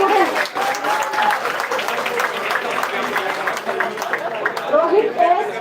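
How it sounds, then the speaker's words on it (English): Crowd clapping at a convocation ceremony continues steadily, with a voice speaking over it near the start and again toward the end. "please clap for your students"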